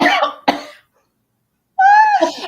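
A burst of coughing from laughing hard and a sharp catch of breath, then silence, followed by a high, strained laughing voice.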